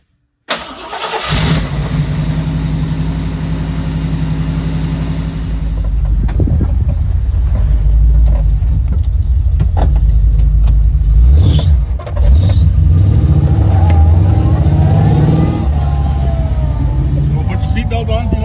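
An old Jeep engine cranks and catches, then idles roughly and revs up and down, loud and close, with occasional voices under the engine noise.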